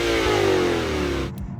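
Lexus RC-F Track Edition engine revving hard through a titanium exhaust, a loud rising rip held for about a second before it abruptly cuts off.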